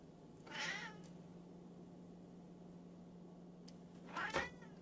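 A cat meows twice, once early and once near the end, with quiet room hum in between.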